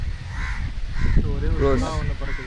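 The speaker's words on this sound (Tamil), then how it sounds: "ஆனால் நாங்கள் வரும்போது வெறும் காக்கா மட்டும் தான் பார்த்துட்ருக்கோம்." Crows caw at Korattur Lake in Chennai, giving a few harsh calls from nearby birds under a person talking, with steady outdoor background noise.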